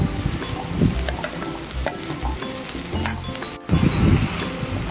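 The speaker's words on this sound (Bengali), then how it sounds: "ওই মশলাটা আমি ভালোভাবে কষে নিচ্ছি।" Ginger, garlic and onion paste frying in a pan for a minced goat meat dish, giving a close, steady sizzle with occasional clinks and scrapes of a spoon stirring against the pan.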